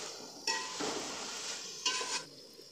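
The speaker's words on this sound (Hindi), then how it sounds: "चम्मच की मदद से हम इनको मिला लेंगे" A spoon stirs potato pulao with green herbs in a pot, making close scraping and swishing sounds in two longer strokes with light metallic clinks.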